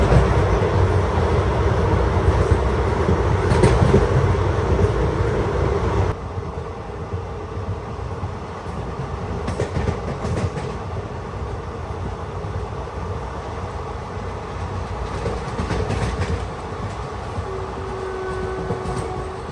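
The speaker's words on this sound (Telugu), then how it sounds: "మన ట్రైన్ అయితే ఏకాంబరకుప్పానికి అయితే వచ్చింది." Tirupati Express train running on rails between Tirupati and Chennai Central, a steady loud rumble of wheels and carriage that continues throughout, slightly quieter after the first few seconds.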